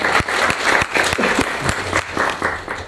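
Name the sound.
audience applause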